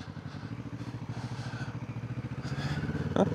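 A 2025 Kawasaki Vulcan S cruiser motorcycle rumbles through its exhaust with a steady, even pulse that builds slightly and ends in a brief clatter near the end. Close and moderately loud, with no talking.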